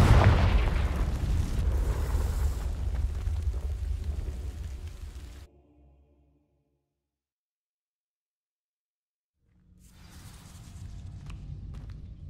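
A Confringo fire spell blasting dry vines in Hogwarts Legacy, a heavy rumbling boom that roars and burns for several seconds, cuts to silence, then faint crackling and movement return.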